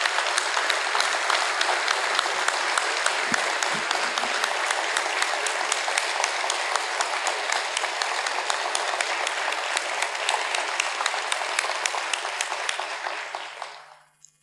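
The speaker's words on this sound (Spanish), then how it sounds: "Julio Pereira como Carlos Kunkel, para los cuales les pido un aplauso muy especial." Sustained applause from a large crowd at a university rector's inauguration ceremony, dense steady clapping that carries on for many seconds before tapering off at the end.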